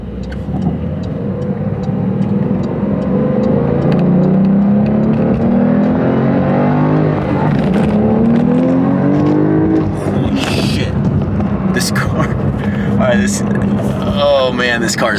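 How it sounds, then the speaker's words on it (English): A Porsche accelerating fast, its engine note climbing steadily as it revs up through the gears, loud and sustained, with a person talking over it. "Oh man, this car is fast."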